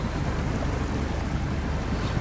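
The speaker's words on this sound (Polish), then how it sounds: "A teraz wjadę w wodę i znowu mi cały śnieg z opon zginie." A heavy truck in Expeditions: A MudRunner Game drives into water, giving a steady, loud wash of churning and sloshing noise over engine rumble, continuous throughout with no speech.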